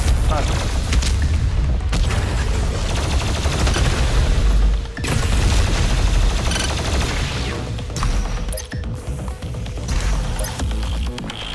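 Rapid, sustained plasma gun fire in Doom Eternal, a loud continuous crackling barrage with heavy booming low end, briefly dropping out near the five-second mark and resuming at full intensity.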